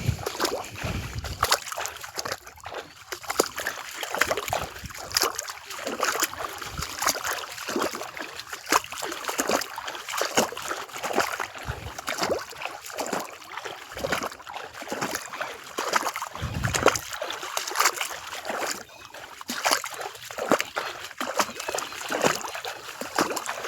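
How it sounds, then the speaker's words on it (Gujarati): Irrigation water flowing into a mustard field, a continuous gurgling, splashing rush heard close and fairly loud, steady throughout with no talking. "પાણી જાયરું છે સીધું રાયડાની અંદર"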